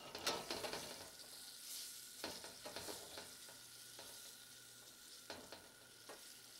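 Frog legs with tomato fry in a pan and get turned over, soft sizzling under a series of sharp scraping clicks from the utensil, quiet and close.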